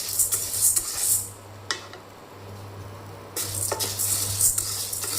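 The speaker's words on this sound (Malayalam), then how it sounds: "ഉഴുന്ന് വറുത്തെടുക്കട്ടെ." Urad dal roasting in a pan on a home stove, with scraping stirs of a spoon against the metal and a faint dry rustle, in two bursts separated by a quieter pause, with a steady low hum underneath.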